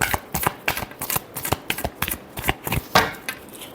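Tarot cards being shuffled by hand, a quick run of crisp riffling flicks and slaps close to the listener, with no talk over them.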